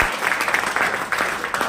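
Audience applause at a sales leader training session in Satna, Madhya Pradesh, a short burst of steady clapping from a crowd, moderately loud and filling the whole moment.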